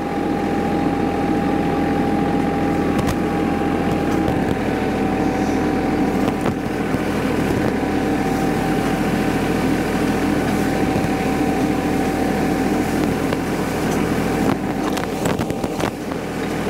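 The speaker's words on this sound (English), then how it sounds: "where the tractor's driving over, it's kind of munching the leaves up a little bit and pushing them down into the grass" A lawn tractor pulling a Yardworks lawn sweep drives over leaves, its engine droning steadily and loudly up close throughout, with wind buffeting the microphone.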